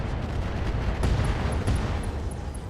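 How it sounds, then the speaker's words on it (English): Dense rumbling battle noise from the video game RogueTech with a sharp ammo explosion burst near the middle, followed by a rolling spread of low booms and crackles. "There's some ammo explosions."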